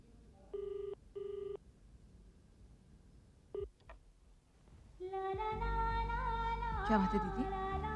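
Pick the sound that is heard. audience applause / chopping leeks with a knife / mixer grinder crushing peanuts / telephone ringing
telephone ringing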